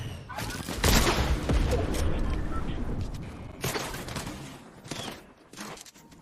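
Explosive boom bow shots in the video game Fortnite: several heavy blasts arrive in bursts with crackling debris and mechanical clatter between them, loud and close, separated by quieter gaps.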